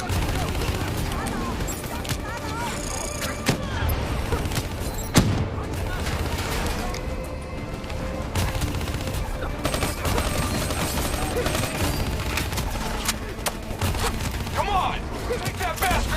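Call of Duty Black Ops 3 combat with a swarm launcher firing amid bursts of gunfire and explosions, dense and loud throughout, with voices shouting over the battle.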